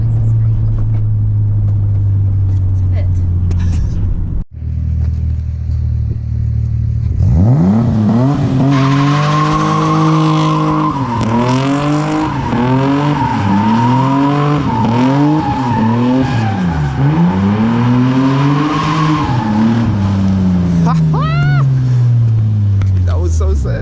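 A Toyota Supra drifting on a secret spot after its fenders were rolled, its engine revving up and down in repeated surges while the tires squeal loudly and continuously through the slides, close and dominant throughout.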